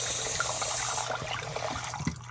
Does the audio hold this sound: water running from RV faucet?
yes